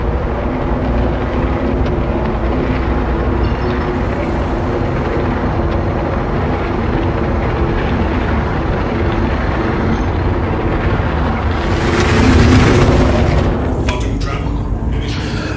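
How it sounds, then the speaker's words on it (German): A loud spaceship engine in the video game Star Citizen, a steady heavy roar and rumble that fills the whole stretch and swells briefly near the end, with no voices over it. "Also dieses Flugzeug oder Raumschiff ist sehr laut."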